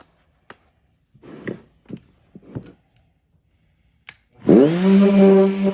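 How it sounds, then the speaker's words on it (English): Sparse knocks and handling noises on a wooden serving tray give way to a power sander fitted with 60 grit sandpaper spinning up near the end, its motor rising to a loud, steady whir. "We're going to get started with some 60 grit sandpaper."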